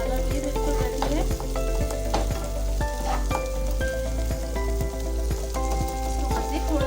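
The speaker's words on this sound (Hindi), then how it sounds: "इसको मज़ीद थोड़ा सा भून लेंगे" Tomato masala for an aloo baingan sabzi sizzles loudly as it fries in a pan, with steady crackling and repeated scraping strokes of a spoon stirring throughout, close and with no talk.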